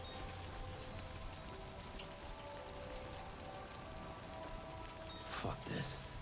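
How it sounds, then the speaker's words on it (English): Steady rain falls across the whole stretch in the Death Stranding 2 video game, a continuous hiss of drops on surfaces with a faint tonal hum beneath, and a couple of brief louder bursts near the end. "See, it's already raining."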